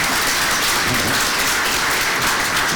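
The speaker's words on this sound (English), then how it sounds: "we should give him a big round of applause for that." Steady, dense applause from an audience fills the whole stretch, a continuous wash of many hands clapping with no voices on top.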